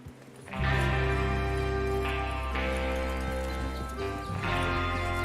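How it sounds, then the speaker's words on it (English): Horses in the Red Dead Redemption 2 video game, a loud whinny and snorting over a steady clatter of hooves, with game music and ambience sustained beneath for several seconds. "Get your horses ready."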